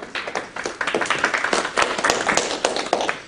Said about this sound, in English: Well, don't clap yet